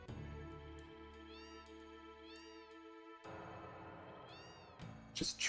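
A cat trills repeatedly over soft game music, short rising chirps spaced a second or so apart, moderately quiet, with a louder burst near the end.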